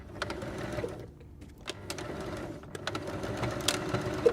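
A sewing machine stitches back and forth across the bottom of a fabric drawstring bag to secure the drawstring, giving a close, rapid mechanical chatter that pauses briefly once before running on, with no talk.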